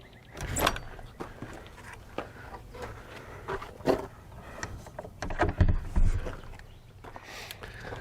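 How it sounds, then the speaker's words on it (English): A wooden chicken coop door creaks and knocks as it swings open, with a few soft clunks and rattles in a quiet space. "Got a hook on this door so it'll stay open."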